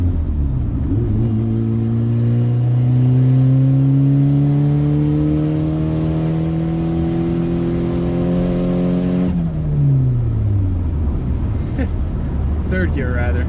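A modified turbocharged car accelerates hard through the gears, its engine note climbing steadily in a loud, close, sustained pull before dropping at a gearshift and pulling again, with turbo whoosh and a voice speaking briefly near the end.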